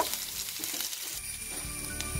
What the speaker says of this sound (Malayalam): ഈ നെയ്യിൽ ആദ്യം വറുത്ത് മാറ്റിയെടുക്കണം.